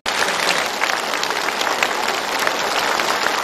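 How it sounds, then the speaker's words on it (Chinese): Studio audience applauding loudly and steadily, a dense, continuous wash of clapping that starts abruptly and holds at full strength throughout, with no talk over it. "我们掌声请他们出来"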